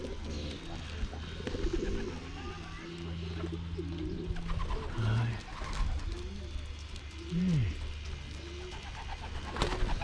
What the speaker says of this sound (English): there's a lot of my stock pigeons in there too